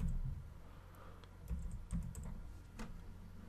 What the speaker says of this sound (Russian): Вводим номер своего кошелька, либо тот кошелек, на который Отправляете деньги.